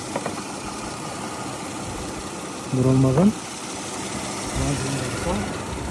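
A 3-litre GDI car engine idles with a steady low rumble, briefly interrupted by a short louder tonal burst and a faint later one.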